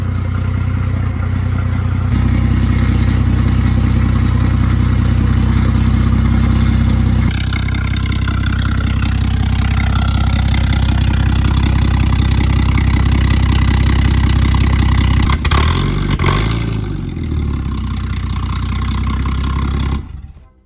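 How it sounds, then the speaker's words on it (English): Ford AU Falcon engine idles loudly and smoothly up close in a steady, even drone, with a slight shift in tone partway through before cutting off at the end; no one speaks. "This engine runs so smooth."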